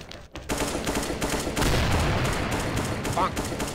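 Rapid gunfire from a video game as a player shoots at a world boss in Shadow mode, a dense, continuous burst of shots that stays loud for the whole stretch.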